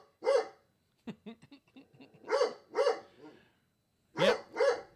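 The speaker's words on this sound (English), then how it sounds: "We are being cussed out by the dog." A dog barks at close range in bursts, a few loud single barks separated by short yips and huffs, with brief pauses between outbursts.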